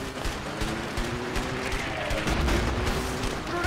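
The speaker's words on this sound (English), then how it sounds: "Grenades incoming." Grenade blasts and heavy gunfire rumble through a firefight in the video game A Way Out, a dense, continuous barrage of booms and cracks, loud and close throughout with no clear pauses.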